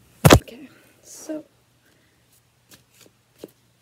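Tarot cards are shuffled by hand in a quick riffle, a sharp loud burst near the start followed by softer sliding and a few faint taps, with a voice speaking briefly in the quiet stretches.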